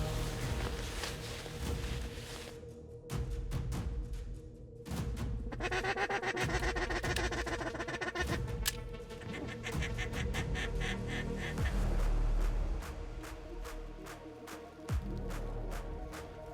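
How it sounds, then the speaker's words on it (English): A big flock of teal comes racing in over decoys on a flooded wheat field at dawn, with close quacking, wing rush and bird calls, then a few sharp shotgun-like bangs in the second half. "That was a big flock of teal."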